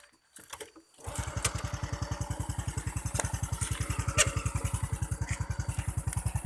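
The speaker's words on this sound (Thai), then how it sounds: "แล้วก็จะมาฟังรอบตัดนะครับ สตาร์ทรถหน่อยดิ" A Honda Wave 110i motorcycle engine starts after a brief crank, then settles into a steady, rapid, loud thumping idle close by, with faint clatter above and a small rev near the middle.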